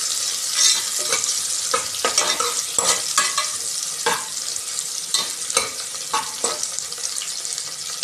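Onions fry in a pan to a steady sizzle, broken by repeated scraping strokes as they are stirred. The sound is close and moderately loud, with no talking.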